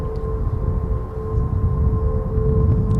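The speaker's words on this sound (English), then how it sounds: "That's the sound of the Golden Gate Bridge" The Golden Gate Bridge gives off a constant, eerie ringing in the wind: steady sustained tones hover over a low rumbling roar of wind for the whole stretch, fairly loud and unbroken, with no voices.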